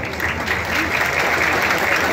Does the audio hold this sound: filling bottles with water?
no